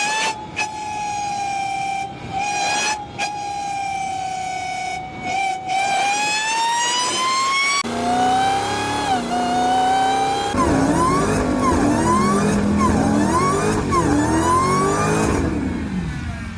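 A loud Ford V8, its highest-revving yet, holds a steady high note, then climbs through several sharp rising sweeps like hard revs or upshifts, with no voices over it.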